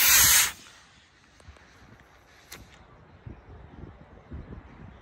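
Model rocket with a Cherokee-E motor launching outdoors on a windy day: a loud, brief whooshing roar in the first half-second, then faint wind noise and scattered light rustling for the rest.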